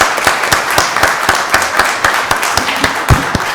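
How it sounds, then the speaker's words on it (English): A crowd at a county board of commissioners meeting claps steadily throughout, a dense patter of many hands with no voices, moderately loud and even. "Let's give Landria a round of applause."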